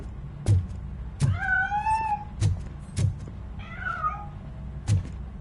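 A cat in the video game RoboCop: Rogue City gives two drawn-out meows between several sharp, loud thumps or knocks, spaced about a second apart, with no talking.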